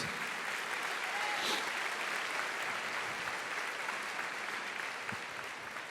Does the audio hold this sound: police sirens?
no